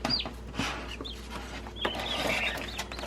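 Baby turkeys peep in short high chirps while a turkey hen answers nearby, the calls scattered and overlapping at moderate loudness against a quiet farm background.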